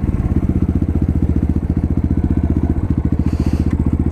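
A 2019 Apollo 250cc Chinese dirt bike idles up close with a loud, fast, even thumping beat that stays steady throughout the clip, with no talk over it.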